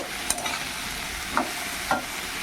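Taro pieces coated in ginger-cumin paste are stirred in a frying pan over a low, steady sizzle. Three distinct scraping clicks of the spatula are spaced about a second apart, with no talking.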